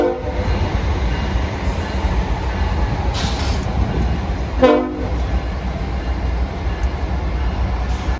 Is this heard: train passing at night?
yes